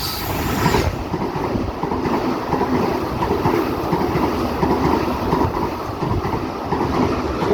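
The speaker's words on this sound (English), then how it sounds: "D-set passing platform number 1. Central service. It is 10 cars." A ten-car D-set passenger train rolls past a station platform at Cockle Creek, a loud, close, continuous rumble of wheels and carriages with rhythmic clacking that runs the whole length without letup.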